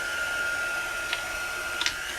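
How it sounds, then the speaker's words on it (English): A hair dryer blows steadily at close range while drying chalk paint on a chalkboard, giving a loud, constant whine throughout. A couple of faint clicks are heard near the end. "now I'm screaming to try and talk over the dryer"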